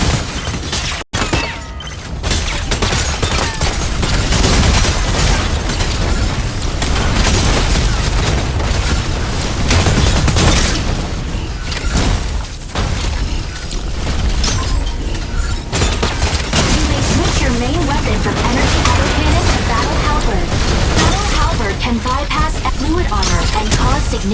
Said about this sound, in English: Enemy target detected. Attack with energy autocannon.